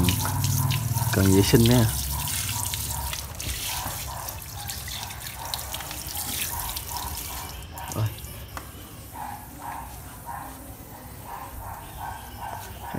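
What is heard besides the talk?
water hose spraying to wet a motorcycle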